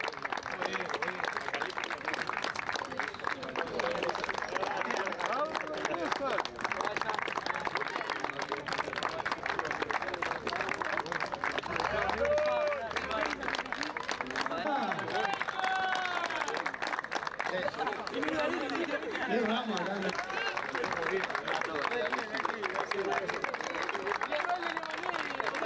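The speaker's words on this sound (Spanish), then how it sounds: "Fuertes aplausos" Sustained audience applause at a youth under-14 medal ceremony, a dense continuous wash of clapping mixed with crowd murmur and an announcer's voice talking over it throughout.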